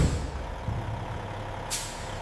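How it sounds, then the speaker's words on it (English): A delivery truck's air brakes release a sharp, short hiss near the end over a low idling engine rumble, close and moderately loud, with no speech. "The truck is sealed and ready."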